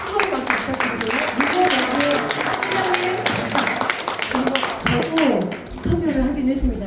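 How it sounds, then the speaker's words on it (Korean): Applause from the audience at a Korean local-history journal publication celebration, scattered clapping running under loud talk over a microphone. "뜨거운 박수 부탁드리고요"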